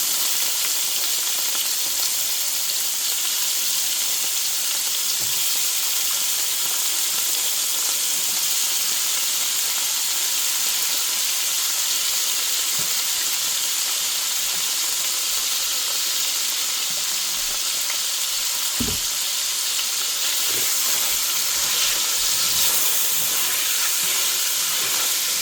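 Pork sears in a pan for Filipino adobo, a steady bright sizzle and hiss that holds for a long stretch, with faint occasional stirring bumps and no talking.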